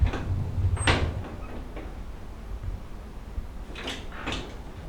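Oven door on a cheesecake bake with a water bath eased slightly open, a quiet clunk and click near the start followed by faint handling sounds over a low background hum.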